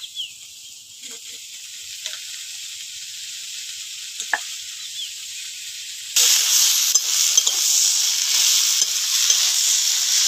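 Gourd stalks go into a pan of fried shrimp: a quiet hiss at first, then a sudden louder, steady sizzle as the stalks hit the hot oil, with faint scrapes of stirring throughout.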